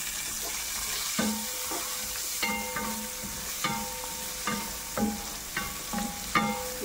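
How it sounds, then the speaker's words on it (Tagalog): Carrots sautéing in a pan make a steady sizzle, with a spoon or spatula scraping and tapping against the pan in an uneven rhythm of clicks and clinks over the frying. "Pigigisa ko talaga yung carrots."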